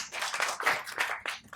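An audience at a panel discussion claps briefly in a short burst of uneven hand claps, fairly close and alone with no talking.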